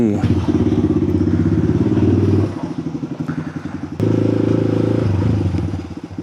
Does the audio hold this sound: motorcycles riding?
yes